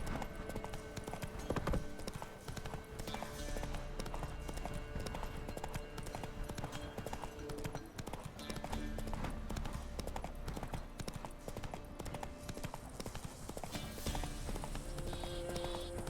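A horse trots through The Witcher 3 video game world, its hooves making a continuous, steady clip-clop at a faint level over game background sound.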